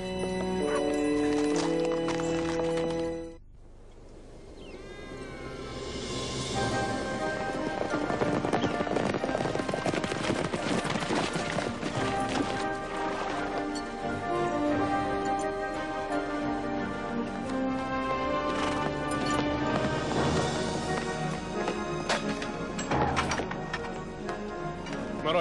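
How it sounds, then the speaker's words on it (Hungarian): Horses gallop with steady clip-clopping hooves and an occasional whinny during a rescue ride to a mine. The hoofbeats sound close and run continuously under a swelling music score. "nyergeld fel a lovakat"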